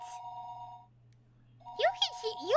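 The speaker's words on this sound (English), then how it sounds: "The phone rang a third time." Telephone ringing in the horror visual novel game Higurashi When They Cry: a steady electronic ring in two bursts, one at the start and one near the end, separated by a quiet gap, with faint rustling and a brief voice-like sound overlapping the second ring.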